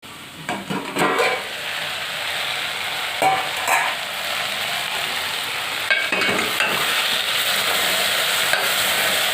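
Food frying in a pan, with a steady loud sizzle and occasional clattering stirs and scrapes of a utensil against the pan.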